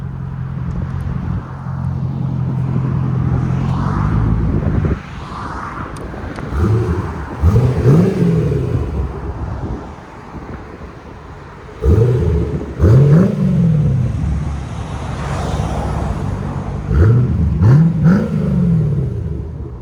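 A C4 Chevrolet Corvette 5.7L V8 exhaust rumbles at idle, then revs up repeatedly in deep, throaty bursts, loud and close, with pauses between each rev.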